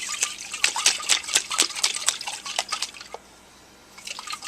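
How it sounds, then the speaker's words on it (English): Milk sloshing and splashing inside a jar as it is shaken to make yogurt from dehydrated milk, a rapid run of wet liquid knocks and drips for about three seconds, then a brief pause before a little more sloshing. "ladle and put some of this milk in the jar. And just shake it up."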